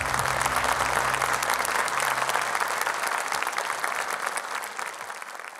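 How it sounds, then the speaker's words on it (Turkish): An audience applauds a contestant at a Quran recitation competition, a sustained dense burst of clapping that gradually thins, with a low hum underneath during the first half. "güçlü alkışlarınızla"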